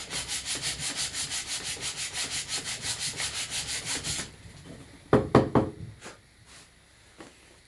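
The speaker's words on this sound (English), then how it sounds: "you take a little bit more off with the sandpaper. So this will just help smooth it" Sandpaper rubs back and forth across a chiseled wooden notch in a quick, even rhythm of about twenty strokes, then stops and gives way to a few light knocks and handling sounds.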